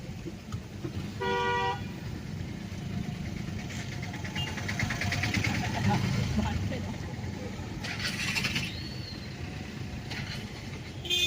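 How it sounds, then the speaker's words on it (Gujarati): Cars sit jammed in heavy traffic outside the Zand Hanumanji temple on a crowded Shravan Saturday, with repeated short horn toots near and farther off over idling engines, while people talk inside a car. "તો બહુ ટ્રાફિક છે અહીંયા આજે."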